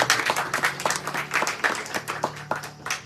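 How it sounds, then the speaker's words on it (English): A small audience at a Hindu community gathering claps in a short, uneven round of applause, individual hand claps distinct and close, rising and falling in bursts over a few seconds. "Give them a round of applause."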